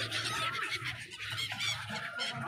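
Birds calling for food at Gouri Ghat, a dense, close chorus of harsh, overlapping cries and clucking calls that continues without a break for a couple of seconds.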